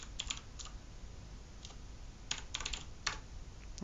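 Nearby computer keyboard typing while setting up a software key store password, a few sparse keystroke clicks and then a quick cluster, over a low steady background hum.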